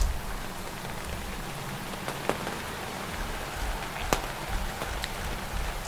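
Steady patter of rain with scattered heavier drops tapping on a taut tarp, a soft continuous wash with occasional sharper plinks.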